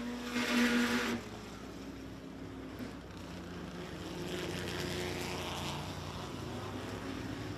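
Classic dirt track race cars at the green flag, a steady engine roar that swells and holds as the pack passes, with an announcer talking over it.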